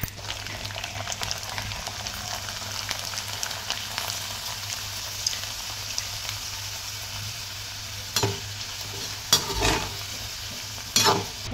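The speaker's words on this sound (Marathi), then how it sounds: "जास्त आपण तळून ठेवूया" Small rice handi papad fry in hot oil with a continuous bubbling sizzle, and a few louder crackling bursts stand out toward the end.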